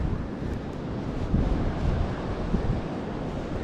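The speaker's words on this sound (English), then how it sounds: "It's windy and the sand is super fine, so it just blows and blows and blows." Wind blows across a beach of very fine sand, a continuous rumbling gusty roar buffeting the microphone, loud and close, with no voices.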